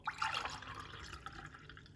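Cucumber, green apple, ginger and lemon juice pouring out, a soft, splashy liquid stream with drips that is loudest at the start and then settles into a steady, quieter trickle.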